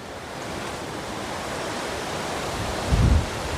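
Strong wind on Mt. Makiling, Sto. Tomas, Batangas, roars steadily as broad rushing noise, with a brief heavier gust buffeting the microphone near the end.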